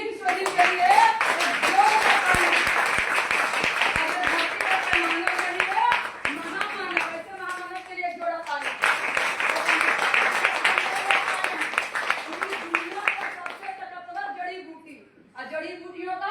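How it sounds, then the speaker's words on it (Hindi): Audience applause at a company gathering, sustained loud clapping from many hands in two long bursts with a short lull between, while a voice talks over it. "संजीवनी बूटी के लिए एक जोरदार ताली"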